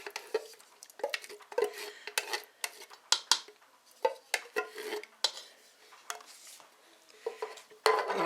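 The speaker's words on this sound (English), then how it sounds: "I have a large 28-ounce petite diced tomatoes I'm going to put in." Canned petite diced tomatoes from a 28-ounce can being scraped and spooned into a pot for hot and spicy chili, a series of irregular metallic scrapes, clinks and wet plops, close and fairly quiet.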